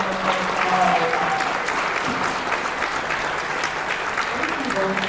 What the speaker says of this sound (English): Please, let's give our panel a round of applause.